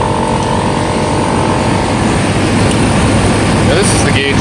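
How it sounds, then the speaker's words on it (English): A Jeep off-road air compressor runs with a loud, continuous motorized drone and rumbling buzz throughout, steady and close, with a faint rattle near the end. "Let's go ahead and turn our air compressor on."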